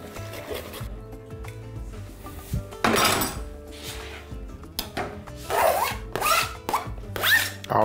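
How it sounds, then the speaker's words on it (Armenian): Garlic cloves rubbed against a kitchen grater for pork shawarma, giving a series of close, rasping scrape bursts in irregular strokes with small clatters between them and no talking. "և 2 պճեղ սխտոր, դա էլ քերում ավելացնում ենք վրան։"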